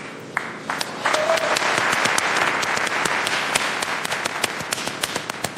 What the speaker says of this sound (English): That's how they clap over there.